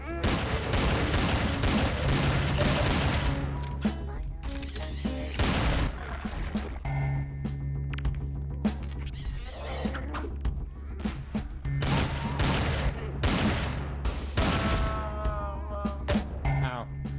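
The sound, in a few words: gunfire from weapons with unlimited ammo in a video game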